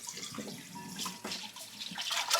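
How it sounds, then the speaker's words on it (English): Running water splashes steadily while a bowl of limed, pickled pumpkin pieces is rinsed and washed in a sink, with irregular sloshes and clinks near and fairly loud throughout. "So we're gonna wash the bowl, everything, and then you kind of want to soak it in water"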